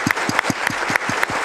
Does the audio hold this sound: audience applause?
yes